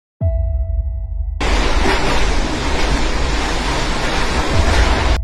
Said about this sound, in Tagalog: Malakas na ulan, malakas na hangin, na tumagal ng maraming oras.